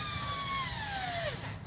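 A power drill whines loudly and steadily for a moment, its pitch sliding down as the motor winds off near the end of the short burst.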